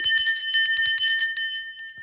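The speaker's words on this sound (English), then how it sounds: "So I'm going to ring the bell." A small hand bell rings repeatedly in a rapid, shimmering series of bright strikes, close and clear. It is rung alone to clear energy during a spiritual session, with a lingering ring between the strokes.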